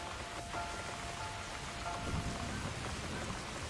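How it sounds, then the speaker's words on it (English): Steady rain falls in The Cat Lady game, a continuous soft hiss of drops on surfaces with faint low rumbles beneath, quiet and unbroken by speech. "Looks like we got the rain back."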